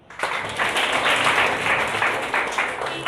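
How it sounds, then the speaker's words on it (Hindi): Loud applause breaks out for a welfare society at a community gathering, starting abruptly after a brief quiet moment and continuing as a thick, steady round of clapping from many hands. "एक बार उम्मीद वेलफेयर सोसाइटी के लिए ज़ोरदार तालियां बजाएं"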